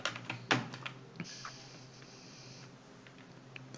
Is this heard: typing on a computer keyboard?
yes